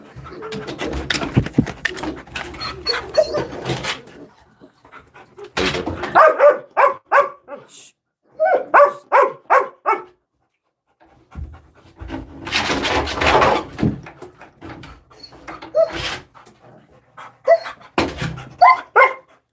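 Five-week-old puppies yelp and whimper in bursts of high, repeated cries, with quieter panting gaps between; an adult voice speaks briefly nearby.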